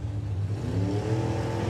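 Toyota Corolla hot rod drag car, the Can-Do 2 Reborn, at a Santa Pod Raceway drag meet, heard as a steady loud engine drone with harmonic hum throughout, close and continuous with no talk.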